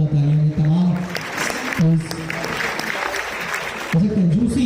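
Classroom applause, students clapping steadily through the middle while a voice speaks at the start and end over it.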